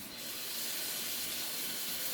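Water from a kitchen tap rushing steadily while something is rinsed off, a continuous close hiss with no talking.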